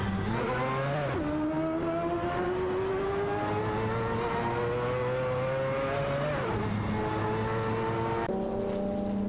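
Race cars, including Nissan NP35s, roar through an AI-driven racing video game, several engines layered with rising and falling gear-shift whines, loud and continuous throughout.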